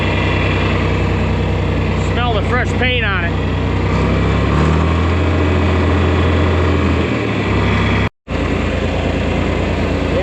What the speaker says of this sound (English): Very smooth shifting tractor.